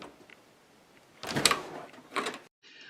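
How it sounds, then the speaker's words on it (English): A household door opens with two loud sliding, rattling bursts of movement, followed by a brief silence and a faint hum. "Open the door."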